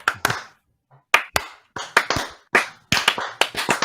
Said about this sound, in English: Are we doing a slow clap?